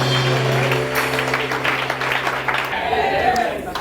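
A church congregation applauds and cheers in praise, a loud wash of clapping and voices that fades out near the end, with a sustained tone underneath for most of it.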